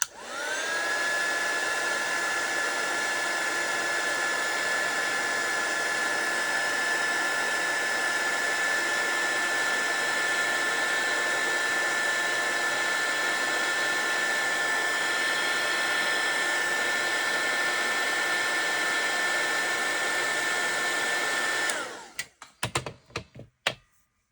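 A heat tool warming shrink plastic gives a steady, loud whirring blow for about twenty seconds, then cuts off, followed by a few light taps and knocks.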